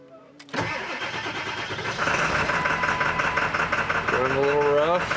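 A Ford 7.3 Powerstroke diesel engine with a newly replaced fuel pump cranks briefly and catches, then settles into a loud, steady, rough diesel clatter with a whining note rising near the end.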